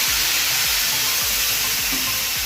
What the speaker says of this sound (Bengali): সামান্য জল দিয়ে আমি এটা কষিয়ে নেব